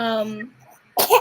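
A sneeze bursts out sharply after a stretch of a woman's speech, one loud explosive burst at close range that follows a brief quiet pause.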